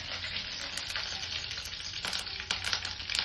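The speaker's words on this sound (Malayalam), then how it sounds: "പാൻ വെച്ചിട്ടുണ്ട്, അതിലേക്ക് കുറച്ച് എണ്ണ വെച്ചിട്ട് ഇതിലേക്ക് കുറച്ച് കടുക് ഇട്ട് കൊടുക്കാം." Mustard seeds crackle and sizzle in hot oil in a pan, a steady dense frying hiss with sharper popping bursts near the end, close and alone with no voices.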